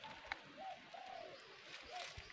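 Pigeons or doves coo softly outdoors, a few faint low calls spread across the moment with a quiet ambient background and an occasional soft knock.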